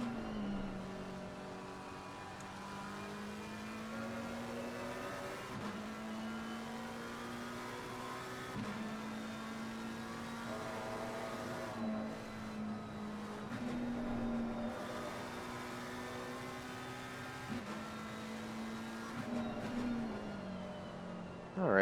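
Porsche race cars in a sim racing league event at Kyalami, engines droning and revving through repeated gear shifts, steady and fairly faint, with pitch dropping and climbing as the cars work through corners.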